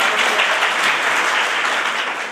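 Loud, dense applause at a postgraduate college gathering in India welcoming the treasurer, a continuous wash of many hands clapping close by that eases slightly toward the end.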